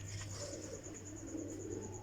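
Faint soft cooing of pigeons, low murmuring calls under a thin steady background hum.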